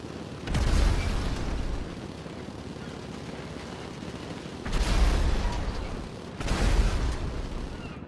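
Paragon ships blowing up in a video game, three heavy booming explosions, one at the start and two close together later, each a broad rumbling burst that decays into a low roar.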